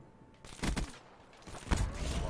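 Gunfire in a first-person shooter match while capturing point Bravo: a couple of sharp, fairly loud bursts of shots rising out of a quiet game background, the second burst more sustained.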